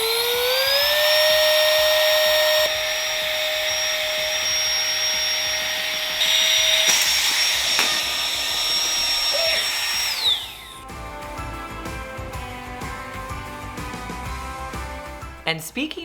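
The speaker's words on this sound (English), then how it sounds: "This tiny portable air pump will fit in your pool bag." Tiny portable electric air pump inflating pool floats, a loud high whine that climbs in pitch over about ten seconds, then cuts off and gives way to quieter background sound.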